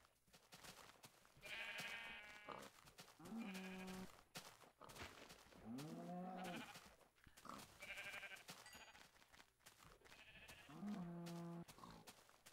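Several sheep bleats in a video game ring out in a row, wavering and nasal, separated by short pauses over a quiet background hum.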